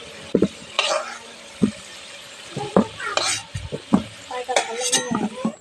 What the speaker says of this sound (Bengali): এভাবে করে লালচে করে ভেজে নিয়েছি